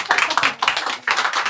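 An audience claps after a talk in a bookshop meeting, producing a close, dense patter of hand claps in a few uneven bursts with short dips between them.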